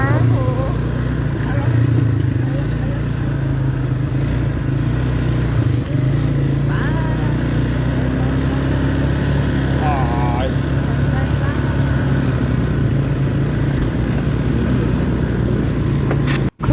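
A car engine drones steadily while driving uphill on a mountain road, a constant low hum close by with road noise throughout.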